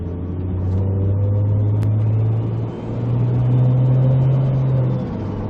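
An MK4 Toyota Supra fitted with an ISF 8-speed transmission drives along, its loud engine droning steadily while the pitch drops at an automatic downshift and then climbs again.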